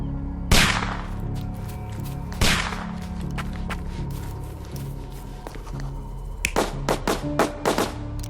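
Sharp gunshot cracks in the detective game Sherlock Holmes: Chapter One, two loud isolated shots early on, then a cluster of quicker snapping hits near the end over a quiet ambient hum.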